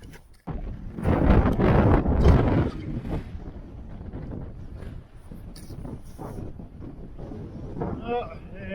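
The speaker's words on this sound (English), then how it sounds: "the wind just going to blow you around" Strong, gusting wind roars across the microphone high on Mt Bogong, loudest in the first few seconds and then settling into a steady buffeting rush, with a voice briefly audible near the end.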